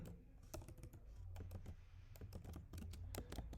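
Someone types JavaScript code on a computer keyboard, a close, quick run of uneven key clicks with short pauses, moderately quiet over a low hum, with no talking.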